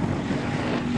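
A race car with its throttle stuck holds a steady, droning engine roar for about a second, loud and unbroken, with no talk over it.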